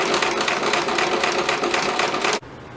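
A sewing machine stitches the waist seam of a pair of jeans in a steady, fast run of needle strokes, loud and close, stopping abruptly near the end.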